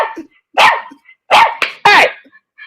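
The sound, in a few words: dog barking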